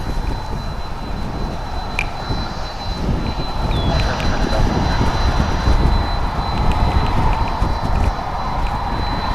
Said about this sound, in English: Hello, SFO. An Airbus A321.